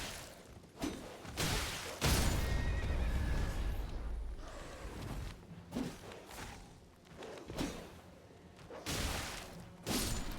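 A horse in a fantasy action game whinnies loudly several times, mixed with hoof clip-clops, heavy thuds and swooshes of combat, with no talk.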